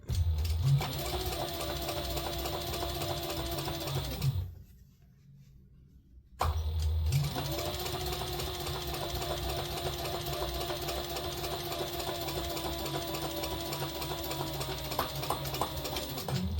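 A sewing machine stitches a bag in a steady, motor-driven hum, stops briefly for a couple of seconds, then starts again and runs on continuously and fairly close.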